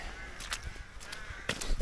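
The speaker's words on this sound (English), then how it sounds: "Crows are out." Several harsh crow caws ring out in separate bursts, a pair early and another pair near the end, moderately close against quiet outdoor background on Scotland's West Highland Way at dusk in March.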